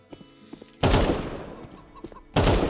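A rifle in Counter-Strike 2 fires two loud, close bursts, each a sharp crack trailing into rumble, separated by a quieter stretch of light clicks and footsteps.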